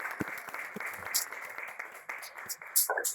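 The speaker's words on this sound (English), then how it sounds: "they really deserve round of applause" Applause from attendees at a stakeholder launch event on tobacco industry interference in Ghana, moderate clapping of a modest crowd, steady but uneven, with some speech mixed in.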